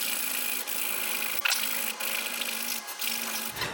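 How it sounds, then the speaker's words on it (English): A metal file rasps marks into a Mazda 2.3L oil dipstick, steady scraping strokes heard close and alone, with a few brief louder bursts and a sudden stop at the end. "And so by putting in these filing marks, and by the way, we'll cross hatch it"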